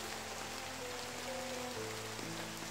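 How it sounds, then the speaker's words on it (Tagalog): Heavy rain hisses in a steady, dense wash, close and even throughout, with a faint low hum beneath it. "Malakas na naman yung ulan."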